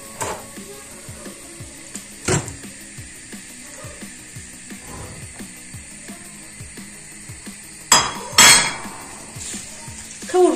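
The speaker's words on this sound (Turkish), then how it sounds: "Kavurmaya başlayacağız." Light, steady sizzling of diced chicken breast frying in oil, with scattered small crackles and a few louder clatters of a utensil against the pan.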